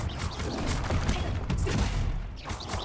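Confringo blasting spells are cast in Hogwarts Legacy, giving a series of sharp, crackling blasts and bursts in quick succession over a busy, continuous background of combat noise.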